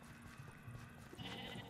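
A sheep bleats in the video game Minecraft Dungeons, a faint, wavering call rising near the end over quiet game background sound.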